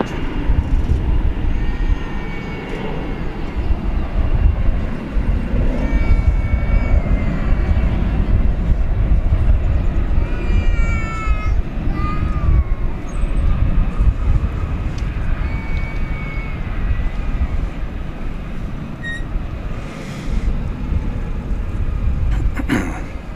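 A Boeing 787-9 Dreamliner jet at DFW Airport near runway 18 left, a steady distant engine rumble at night with wind noise, while a person talks over it.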